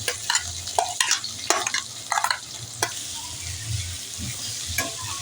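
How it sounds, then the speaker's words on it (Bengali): Onions and chillies sizzling in hot oil with bay leaf, dried red chilli, cloves, cardamom and cinnamon in a pan, a loud steady fry punctuated by repeated sharp scrapes and clanks of a spatula stirring. "এর মধ্যে পেঁয়াজ আর লঙ্কাগুলো দিয়ে দিলাম।"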